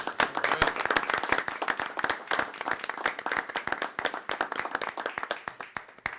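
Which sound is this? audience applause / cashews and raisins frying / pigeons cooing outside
audience applause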